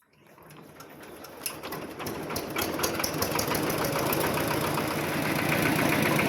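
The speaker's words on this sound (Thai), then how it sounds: "เดี๋ยวสตาร์ทเครื่องยนต์ก่อนนะฮะ" A modified small Thai walking tractor with a rotary tiller cranks and fires up, its engine catching and settling into a steady, close, mechanical idle that grows slightly louder and fuller over several seconds, with no talk.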